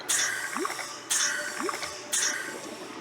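Underwater bubbles in Subnautica rise from a buried source in three regular bursts about a second apart, each a bright fizzing whoosh with small gurgling pops trailing behind, close and fairly loud with no talk.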